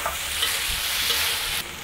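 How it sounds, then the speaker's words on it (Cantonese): Prawns and spinach being stirred with a thickening sauce in a hot wok, a steady close sizzle and frying hiss with soft scraping stirs, and no talking. "然後攪翻勻嗰個芡汁"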